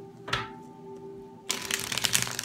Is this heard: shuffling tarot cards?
yes